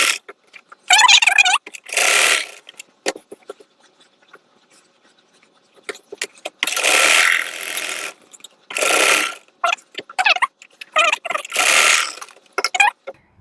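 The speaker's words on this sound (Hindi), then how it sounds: "अब स्टिच करना स्टार्ट करेंगे। तो यहीं से ही वापस में सिलाई लगा।" Sewing machine stitching a four-dart blouse, loud close bursts of rapid mechanical whirring separated by pauses, no talk.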